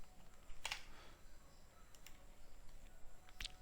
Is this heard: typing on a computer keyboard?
yes